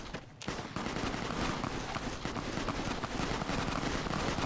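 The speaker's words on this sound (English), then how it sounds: "I'm running to the sound of the gunfire." Sustained bursts of rapid gunfire in the video game Fallout: New Vegas, dense and continuous, with distant and near shots blending into a constant rattle.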